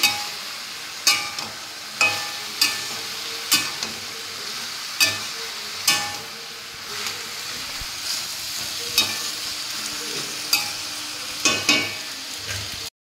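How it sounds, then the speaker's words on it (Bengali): Vegetables with fried lentil dumplings (bori) stirred in a pan, with a spoon scraping in a steady rhythm of about one stroke every second or two over a continuous close sizzle. "ভাজা বড়ি দিয়ে দিলাম, সবজির সাথে মিশিয়ে আবার ঢাকা দিয়ে দেবো।"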